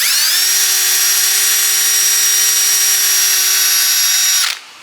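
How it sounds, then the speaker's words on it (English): An electric drill, used while installing new head bolts on a Range Rover, whirs up to a loud, steady high-pitched spin, holds it for several seconds, then winds down at the end. "I'm gonna try to see if I can use this drill"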